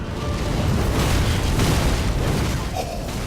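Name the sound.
Sunlight Spear lightning spell blast in Dark Souls 3 video game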